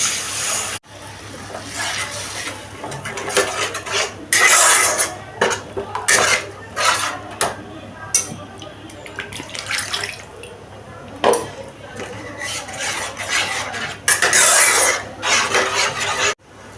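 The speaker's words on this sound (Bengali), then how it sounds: "এই মশলাটাকে আমি ভালো করে আরও কষিয়ে নেব" A spice paste for a Bengali fish curry is stirred and fried in a pan, making repeated close metallic scrapes and clinks of a spatula against the pan over a low sizzle.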